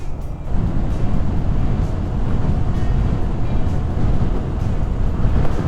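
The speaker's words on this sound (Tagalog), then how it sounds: "Lakas ng hangin men." Strong wind buffets the microphone during a motorcycle ride on a mountain road loop through Rizal, Laguna and Infanta, a continuous low roaring rumble with no voices.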